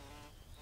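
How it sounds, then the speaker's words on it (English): Insects buzzing in the Metal Gear Solid video game, a steady dense drone filling a brief moment with no voices. "Are they bees or are they hornets?"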